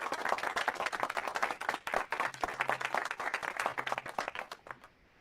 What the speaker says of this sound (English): A round of applause for our fourth speaker.